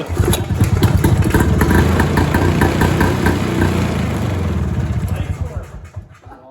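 A vintage Challenger snowmobile engine runs loud and close, a rough, pulsing two-stroke idle with uneven throttle blips, people talking over it, fading slightly toward the end.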